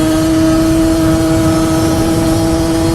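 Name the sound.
racing car engine in a video game motor race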